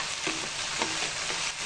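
Mustard paste and spices fry in a pan for a mustard hilsa dish, giving a steady close sizzle with a few soft stirring scrapes and no talk.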